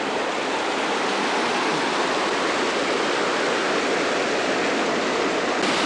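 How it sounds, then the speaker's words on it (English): A small waterfall on a mountain hiking trail near the Cline River pours in a steady, loud, broadband rush of falling water, close by and unbroken, with no voices. "Here's another little waterfall"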